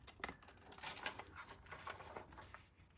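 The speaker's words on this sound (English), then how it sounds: "Just using your fine tip scissors, we're going to go in here and cut out the image that we want," Fine tip scissors snip through Graphic 45 Halloween patterned paper, giving a run of quick, close, crisp clipping sounds with light rustling between cuts.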